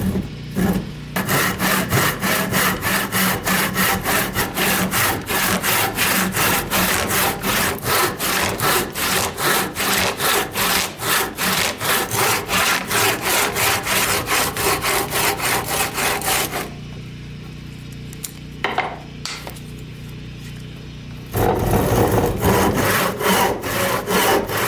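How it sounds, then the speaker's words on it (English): A crosscut hand saw cuts through wood in fast, even back-and-forth strokes that rasp loudly and close up for most of the stretch. After a short pause with a few light knocks, the sawing starts again. "This is a crosscut saw, not a rip cut saw."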